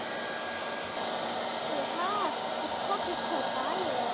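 A hair dryer blows a steady, even hiss while drying pink paint on a custom Nike Jordan sneaker, running unbroken throughout as people talk over it.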